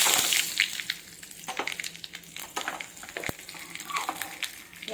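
Mustard seeds, cumin, asafoetida and curry leaves sizzling and popping in hot oil for a tempering, a faint steady crackle with scattered sharp spits and pops close by.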